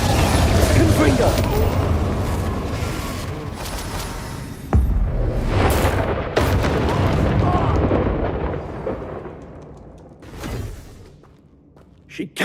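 A Confringo blasting spell explodes in the Hogwarts Legacy video game amid a dense, roaring battle with rumbling blasts, whooshes and one sharp crack, the din fading before a final burst.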